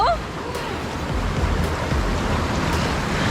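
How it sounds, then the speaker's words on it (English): Water rushing in a wave river ride at the Atlantis Aquaventure water park in Dubai, a loud, steady wash of churning water and wind buffeting close by, with voices mixed in. "This is like a wave river, no?"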